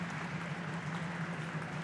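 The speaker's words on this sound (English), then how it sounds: "Her teammates help her to the bench now to a round of applause." Spectators in a stadium at a senior girls' volleyball match give a round of applause as an injured player is helped to the bench. The clapping is faint and distant, a continuous even patter.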